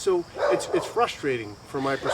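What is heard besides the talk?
dog barking outside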